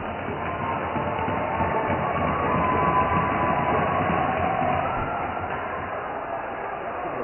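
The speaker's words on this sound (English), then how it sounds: "Kind of a hostile crowd here, you can tell." A dense, steady murmur of a crowd fills the rink at a high school boys hockey game against St John's Prep, a continuous roar of voices with no distinct cheers standing out.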